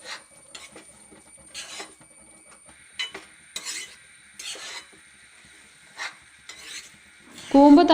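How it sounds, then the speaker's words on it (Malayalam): A spoon scrapes and stirs cooked cowpeas into a banana flower stir-fry (thoran) in a pan, with intermittent clattering strokes against the metal and a louder scrape at the end. "നമ്മൾ നേരത്തെ തന്നെ വെന്ത് വെച്ചിട്ടുള്ള വൻപയർ കൂടി ചേർത്ത് കൊടുത്ത് നന്നായിട്ടൊന്ന് ഇളക്കി യോജിപ്പിച്ച്"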